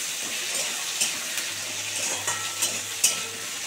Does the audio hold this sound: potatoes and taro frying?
yes